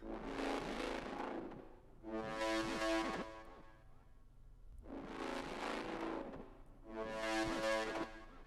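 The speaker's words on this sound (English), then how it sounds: "The first sound that I laid down was this trumpet pattern that sounds like this." A brassy trumpet melodic phrase, made in FL Studio, plays in four repeated bursts with short gaps between them, bright and full, with no talking.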